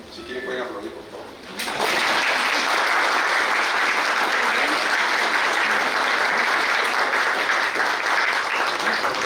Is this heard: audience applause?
yes